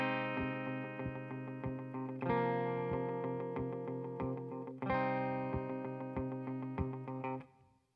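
Electric guitar chugging steady 16th notes on a low C with chord stabs layered on top, loud and rhythmic, played alone before fading out.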